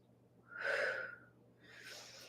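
A deep inhaling breath taken during a hip hinge exercise, one strong airy intake swelling and fading, then a softer second breath, close and alone.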